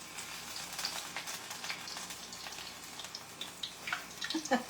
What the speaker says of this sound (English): I'll set it off the burner and fry it. Fry a couple.